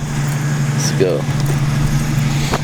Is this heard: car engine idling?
yes